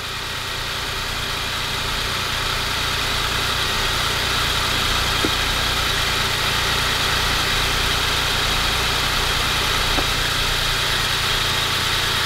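A car engine idles with one spark plug wire pulled off, a steady close rumble with rough vibration and a couple of faint ticks, with no talking.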